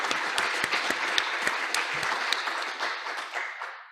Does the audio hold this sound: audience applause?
yes